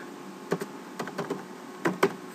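Keys clack on a computer keyboard as a fastboot command is typed, about eight light clicks in quick irregular bursts over two seconds, close and clear with no talking.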